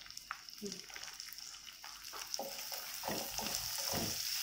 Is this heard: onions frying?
yes